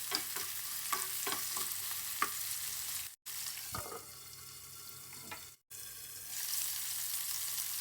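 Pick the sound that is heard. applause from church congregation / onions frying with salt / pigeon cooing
onions frying with salt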